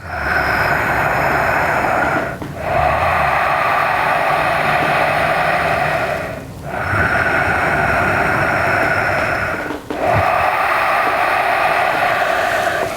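Loud, steady hissing breaths of ocean breathing pass through a constricted throat, three long rasping cycles with brief pauses between them, close and noisy.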